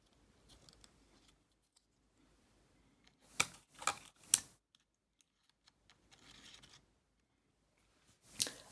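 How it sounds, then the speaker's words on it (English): An SD memory card is handled, pulled from a Sony camera and pushed into a Mac computer: soft quiet rustles, then several sharp close plastic clicks and snaps at about three to four and a half seconds and again at the end. "Take out the memory card from the camera. And then insert the memory card into the computer."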